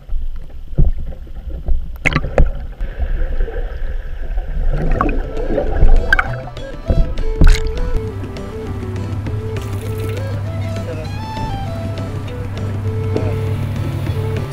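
Motorboats speed across the Brest roadstead, a loud continuous engine drone with rising and falling pitch, water and wind noise, and a few sharp knocks early on, with no talking.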